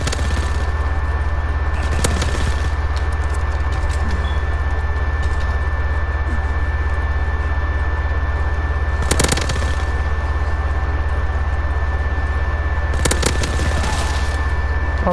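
Gunfire in a World War II shooter game: sharp bursts of shots stand out at a few points over a constant loud low rumble and noise, no talk.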